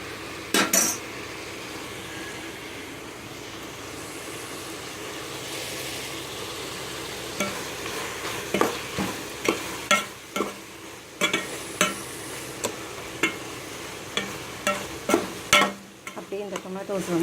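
A spoon scrapes and knocks against a pan as onions and tomatoes soften in oil for a Madurai-style mutton biryani. A soft sizzle runs steadily underneath, with repeated close stirring clacks in the second half.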